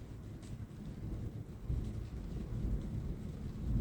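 Faint, distant thunder rolls as a low, continuous rumble with no talking, soft and steady throughout.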